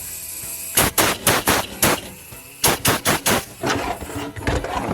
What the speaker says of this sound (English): Do you guys know you can air check the shift valves?